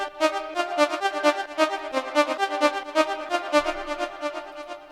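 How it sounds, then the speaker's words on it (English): A synthesized harp-like line built from two sawtooth oscillators, one pitched an octave up, in a peak-time techno track: a bright, rippling run of fast plucked notes with ringing harmonics, steady and clear with no voices. "let's move into one of the main first element, which is the harp, which sounds like this."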